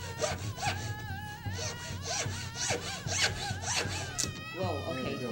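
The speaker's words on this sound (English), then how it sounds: "And you cut it off at that mark." Handsaw cutting through a wooden dowel for a headdress feather, with repeated rasping strokes in a steady back-and-forth rhythm, close and fairly loud, alongside some talk.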